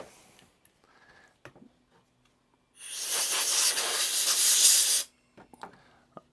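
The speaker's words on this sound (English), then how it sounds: "I'll give it a quick little blow off my air compressor." A loud, steady hiss of compressed air from an air compressor blowing off a carburetor for about two seconds, preceded and followed by faint clicks and handling noises.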